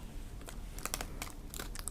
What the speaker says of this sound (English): peel off the back